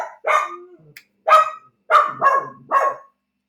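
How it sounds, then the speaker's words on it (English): Excited puppies bark in a series of five sharp, close, loud yaps with short pauses between them, with no talk over them. "Sorry, my puppies are very excited about it."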